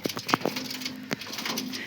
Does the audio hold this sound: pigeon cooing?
yes